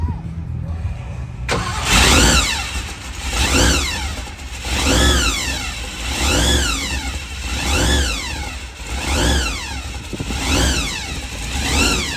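A truck engine at a racetrack autocross event cranks over and then catches, settling into a loud, close running note that swells and falls in repeated rev cycles.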